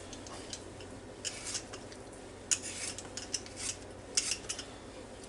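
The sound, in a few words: knife cutting bad spots out of potatoes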